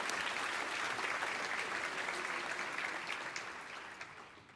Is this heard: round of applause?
yes